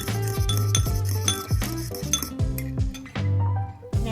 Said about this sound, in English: Just want to go ahead and mix that until it's well combined.